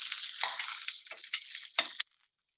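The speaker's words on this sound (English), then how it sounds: "I'm gonna give my tortilla just another like 30 seconds to get even more crispy, crunchy" A tortilla crisps in a hot pan while vegan mole colorado is being made, giving off a steady, close crackling sizzle with a few sharper pops before it cuts off abruptly near the end.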